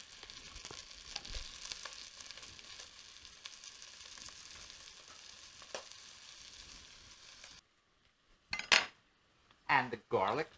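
Onions added to browned beef in a pot for a Finnish shepherd's stew, a soft sizzle with utensil clinks and scrapes for several seconds, then near silence broken by a few loud bursts of clattering metal.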